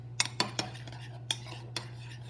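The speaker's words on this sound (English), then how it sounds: "Grab my spoon and I'm going to just mix these seasonings with the pizza" A metal spoon clinks sharply against a bowl while mixing seasonings into pizza sauce, five or six distinct taps over a soft steady hum, close and fairly quiet.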